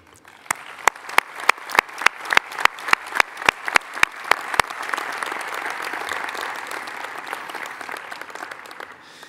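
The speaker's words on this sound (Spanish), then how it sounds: "A todos ellos un fuerte y merecido aplauso." Audience applause at the inauguration of a 2019 AUSAPE forum, opening with sharp, separate claps that swell into dense, sustained clapping from a crowd filling the hall.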